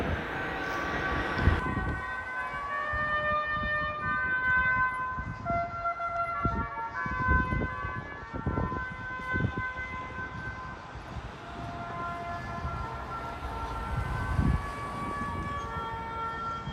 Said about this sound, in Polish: Melodia, jaką słyszymy w tle, to hejnał miejski